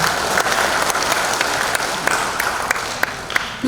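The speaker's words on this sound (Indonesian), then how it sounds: "Boleh kita minta tepuk tangannya Bapak Ibu?" An audience at a Malang city government event on preparations for the 2024 regional elections breaks into steady, dense applause, with a few louder claps popping out over the continuous wash of hands.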